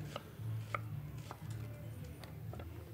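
A knife chops through a large shallot on a board, several crisp cuts falling at irregular intervals over a low steady background hum, close and fairly clear, with no voices.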